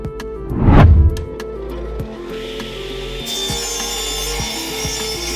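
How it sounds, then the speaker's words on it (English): Plywood panels being cut on a saw, a loud burst of cutting at the start followed by a steady motor whine and softer rasping. "Next, I cut out panels C1 and C2."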